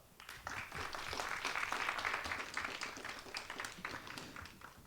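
An audience claps after a presentation at a Gwacheon city development public forum: a dense, quiet patter of many hands that swells, holds steady, then eases slightly, with no voices.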